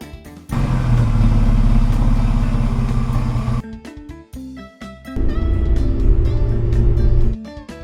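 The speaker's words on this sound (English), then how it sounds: "Jeep." A cartoon jeep's engine, loud and up close, runs in a rumbling low drone for about three seconds, breaks off into short clunks, then roars again for two more seconds, with no voices.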